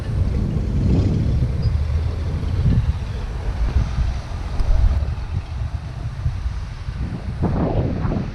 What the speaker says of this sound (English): the day is very windy, and that means the water's rough